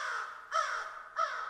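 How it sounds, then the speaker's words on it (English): A crow gives three harsh caws in a slow, even rhythm. The calls are faint and distant in a quiet wooded setting. "Oh, it's a crow or something. In the distance, miles away."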